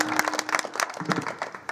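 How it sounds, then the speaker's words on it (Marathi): Audience clapping breaks out for a pair of musicians, a mridang player among them, at a devotional kirtan gathering; scattered, uneven claps rise in short bursts, with a sustained tone in the background. "या जोडी करता एकदा टाळी वाजवा"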